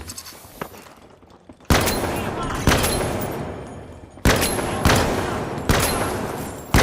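Gunfire from weapons in the video game The Finals: loud bursts of automatic fire in several sustained strings with sharp onsets, separated by brief pauses, with speech over parts of it.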